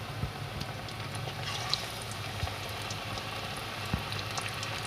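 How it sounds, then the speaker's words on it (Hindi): Pakoras frying in hot oil in a kadai, a steady low bubbling hiss with scattered soft pops and crackles throughout, close and moderately quiet. "पकोड़े का बैटर तैयार होने के बाद मैंने कढ़ाई रखी है और तेल गरम हो चुका है। अब मैं पकोड़े फ्राई करती हूँ।"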